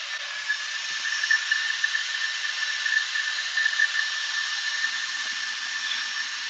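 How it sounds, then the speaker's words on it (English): A steady high-pitched whine of a drill boring a pilot hole into a bowling ball, continuous and fairly close, with faint knocks underneath. "We drill the pilot"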